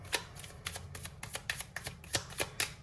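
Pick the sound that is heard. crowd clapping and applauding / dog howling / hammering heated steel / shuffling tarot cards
shuffling tarot cards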